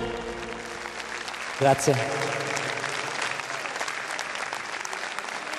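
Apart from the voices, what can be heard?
audience applause at a fashion show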